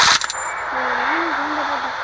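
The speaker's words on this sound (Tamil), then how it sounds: "புல்லட்டை சுட்டேன்" Gunfire in a room-match video game: a quick cluster of sharp shots at the very start, then a steady high electronic tone and a wavering whine that runs on after the shots fade.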